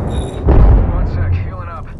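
A frag grenade in Apex Legends goes off in a single close, heavy boom about half a second in, followed by a rumbling tail and scattered debris-like crackle.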